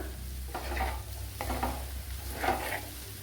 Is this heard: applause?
no